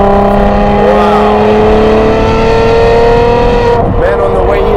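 A 1000hp McLaren 720S fitted with a Novitec exhaust screams at high revs, a loud, tonal engine howl that holds and climbs before dropping sharply near the end.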